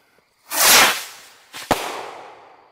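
Salute bottle rockets fired outdoors: a loud rushing whoosh as one launches, then a sharp bang and a second burst that trail off into a fading tail, with no voices.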